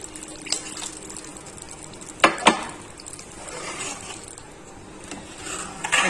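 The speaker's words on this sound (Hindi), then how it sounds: "और इसमें थोड़ा सा पानी ऐड करेंगे।" Water poured into a cooking pot while making beef nihari, a steady watery splashing hiss with a couple of sharp clanks from the pot partway through, no talking.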